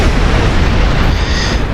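A double torpedo hit in Star Trek Online lands as a loud, sustained booming explosion with a deep rumbling low end, filling the short moment with no voices.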